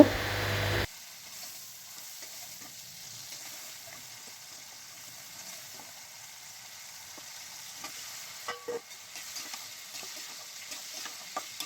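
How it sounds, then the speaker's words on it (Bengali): Spices sizzle in hot oil in a pan for an aloo-kopi curry, a soft steady crackle with a few louder scrapes of stirring near the end, preceded by a brief louder burst at the start. "মশলাগুলো দিয়ে দিলাম ভালো করে কষিয়ে নেব"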